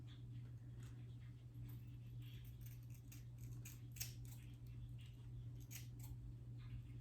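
Scissors snip at fringe bangs in small sections during a home haircut, a quiet series of faint irregular cuts over a steady low hum.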